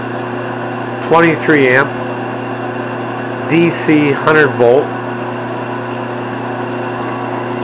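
A 3.2 hp treadmill motor spun by an engine lathe hums and whines steadily in a workshop, a constant mechanical drone with bursts of nearby talk over it.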